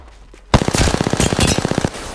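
Rapid automatic gunfire in an online shooter game, a sharp burst of about a dozen and a half evenly spaced shots lasting over a second, loud and close.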